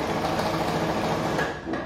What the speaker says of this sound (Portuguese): Costurei com a linha escura,